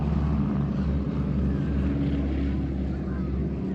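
North American T-6 Texan propeller aircraft at an airshow, a low, steady engine rumble droning continuously as it passes, loud and broad with no clear rise or fall, with talk faintly beneath.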